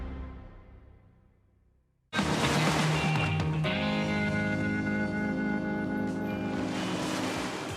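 Ocean waves break at Lighthouse Beach during a surf contest, a quiet fading wash that gives way to a loud, continuous roar of surf and wind, with no voices.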